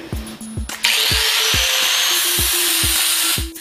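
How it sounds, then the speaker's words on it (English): An angle grinder works over welded seams on a Harley bagger frame neck, a loud continuous high whine with a few short bursts and restarts at the start, steady and close for most of the span. "Now that we've got everything welded up, we can grind it down and prep it for paint."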